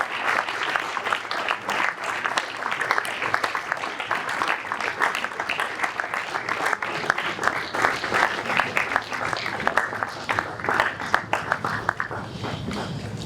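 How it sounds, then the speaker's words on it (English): An audience at a business conference in Port Harcourt gives a standing ovation, with dense, continuous clapping that holds steady at a moderate distance and fades slightly at the close. "with a standing ovation, let's welcome Mr. Falade"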